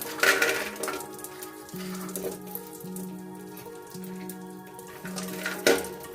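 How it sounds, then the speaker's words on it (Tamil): Black raisins frying in a pan over a low flame, a light crackling patter like rain on a surface with faint utensil clinks, soft and close throughout. "இப்போ கருப்பு திராட்சை நம்ம சேர்த்த போகிறோம்"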